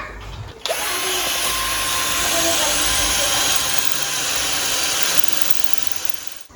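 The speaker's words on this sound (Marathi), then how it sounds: "हे दोन होल्स तिथे आहेत आणि ते ड्रिल करूया आपण" An electric drill whirs loudly and steadily for several seconds, starting abruptly and winding down at the end, like drilling into a wall.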